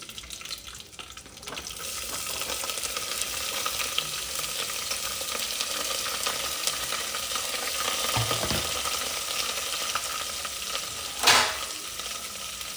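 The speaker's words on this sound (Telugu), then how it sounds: "ఇప్పుడు మనం కట్ చేసుకున్న ఆనియన్స్ అయితే మొత్తం వేసుకుంటున్నాం" Chopped onions go into a pan of frying garlic and curry leaves for egg curry, giving a steady, loud close sizzle with a brief clink of a utensil near the end.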